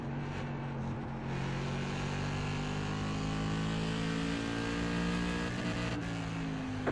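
A steady, droning race car engine in the iRacing simulator game with harmonic whine, loud and continuous, holding a constant pitch with slight shifts, no talking.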